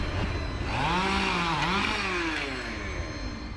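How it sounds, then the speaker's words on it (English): A chainsaw cutting through a eucalyptus tree felled by a storm in San Diego, a loud close buzzing whine whose pitch bends down and rises again as the chain bites into the wood, with no voices. "People across San Diego woke up to the buzz of chainsaws."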